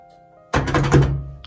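A door in a house thuds loudly as it is opened and shut, one heavy broadband impact followed by a second of rattling, close by, with a faint click at the end.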